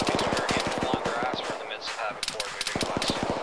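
Rapid machine gun fire in the video game ArmA 3, fast rhythmic bursts of shots that stop briefly mid-way and then resume, with radio chatter layered over the firing.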